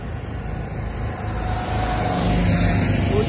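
Traffic on a road near the Mahananda river in Siliguri, a vehicle passing close with a broad engine roar that swells louder toward the end, no voices audible.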